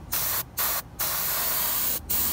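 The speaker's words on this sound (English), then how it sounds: "I'm going to be spraying it with olive drab" Airbrush spraying gray paint onto an Eduard M4A1 Sherman scale model tank, a steady close hiss in four bursts separated by brief pauses, with no talking.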